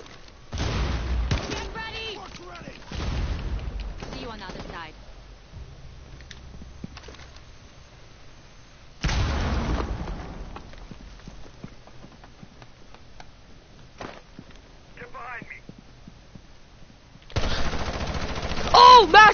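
Gunfire in Rainbow Six Siege, heard as bursts of rapid shots at close range that come in several separate volleys with gaps between them, and a loud burst near the end.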